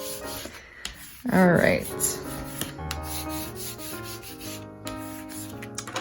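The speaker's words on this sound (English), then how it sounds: "you can take your bone folder and burnish so you can't burnish no more" Bone folder burnishing paper on a winter folio craft project, producing repeated dry rubbing and scraping strokes close by, with a voice speaking briefly over the rubbing.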